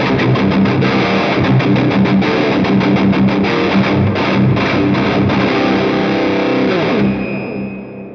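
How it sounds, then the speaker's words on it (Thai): Heavily distorted electric guitar, a Jackson JS32TQ Dinky Arch Top, plays loud chugging riffs and chords, thick and saturated, ringing out and fading near the end. "เล่นแต่เสียงแตกมา"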